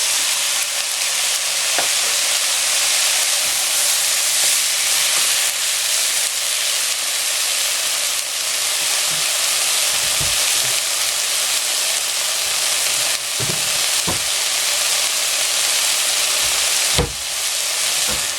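Fish sauce and other ingredients simmering in a covered pot for sotanghon soup, a steady close bubbling hiss with occasional soft knocks and pops throughout.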